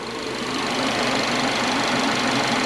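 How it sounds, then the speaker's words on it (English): A 2011 Subaru engine runs steadily at idle with a light, fast ticking from the fuel injectors over a continuous mechanical hum, close and loud with no talk. "thing's running smooth and quiet. I mean, I hear injectors more than anything."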